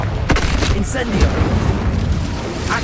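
An Incendio fire spell bursts in Hogwarts Legacy on PS5, a deep, heavy booming whoosh rumbling under a voice with other spell effects around it.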